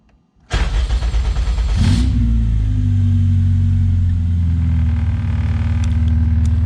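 A car engine cranks, then fires up after a push button start is installed, settling into a loud steady idle rumble that holds to the end, with no talk over it.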